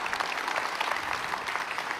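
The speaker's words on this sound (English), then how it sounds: "A big applause for the Camera Image technical team." An audience applauds a camera image technical team at a conference talk, a steady crisp clapping that holds evenly and moderately loud throughout, with no voices over it.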